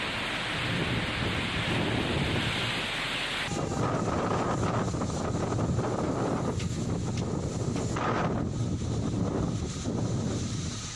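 Cyclone Amphan batters the area with strong wind and heavy rain, a dense, unbroken roar from start to finish. Rumbles of thunder rise out of it, and there is no talk over the storm.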